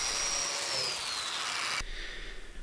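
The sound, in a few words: power tool cutting mortises in wooden web frames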